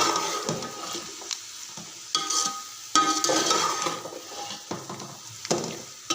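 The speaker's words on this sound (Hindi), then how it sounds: "आलू डाल के हम इसे अच्छे से 2-3 मिनट तक भून लेंगे।" Potatoes frying in a pan with mixed vegetables for veg pulao, a steady close sizzle broken by several scraping stirs of a spoon against the pot, with no talking.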